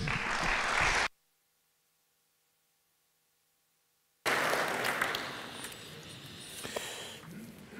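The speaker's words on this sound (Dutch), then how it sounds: "Applaus voor de drie." Audience applause at an opening study day, heard as a burst of clapping that cuts to about three seconds of silence, then resumes as a full round of clapping that gradually tapers off.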